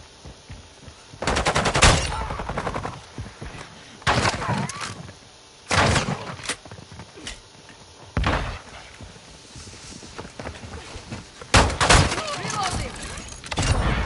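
Video game gunfire crackles in several loud bursts of rapid automatic shots separated by quieter gaps, with faint voices and background noise between volleys.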